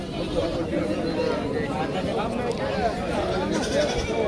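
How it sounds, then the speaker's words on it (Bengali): Goats bleat in repeated, overlapping wavering cries across a busy rural goat and sheep market at Kaitla in Mirzapur, Tangail, set within a constant murmur of crowd chatter and nearby talking voices. "চতুর্পাশেই কিন্তু ছাগল উঠেছে কাইতলা একটি গ্রামীণ পর্যায়ের হাট"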